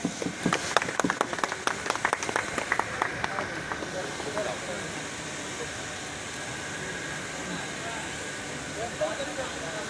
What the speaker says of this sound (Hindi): सभी साथी ताली बजाएं।